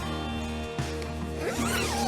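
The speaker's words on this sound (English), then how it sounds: "You've got to come out of the tent in order to bring these zips down." A tent flap zip is pulled down in a single long, close rasping run that lasts about two seconds, with no talking over it.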